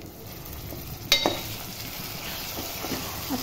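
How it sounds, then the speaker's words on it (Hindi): Marinated chicken with onions and spices sizzles in a pan, a steady close frying hiss broken by a sharp clink and stirring scrapes near the start, with softer utensil knocks later. "अब प्याज के साथ और बाकी मसालों के साथ हमें चिकन को अच्छे से भून लेना है।"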